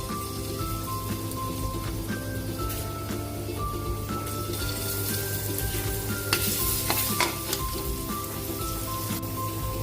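Garlic sautéing in hot oil for pork igado, a continuous crackling sizzle with occasional stirring scrapes, close and steady with no one speaking.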